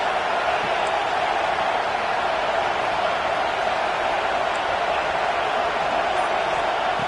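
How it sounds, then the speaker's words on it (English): Broad, steady roar of a packed stadium crowd in a football video game, continuous and loud with no breaks, a dense wash of cheering noise throughout. "listen to this crowd noise. This stadium is vibrating"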